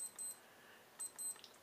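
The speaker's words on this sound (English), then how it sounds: "There's my watch beeping there." A wristwatch alarm going off at six o'clock, faint, high, quick double beeps repeating in short bursts against quiet room background, with no talking.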